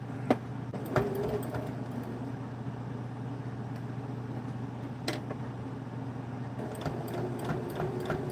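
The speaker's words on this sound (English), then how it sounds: "And then I'm just going to sew this around." Steady close mechanical hum of a sewing machine stitching fabric for a homemade clothespin bag, running continuously with a few light clicks and taps along the way.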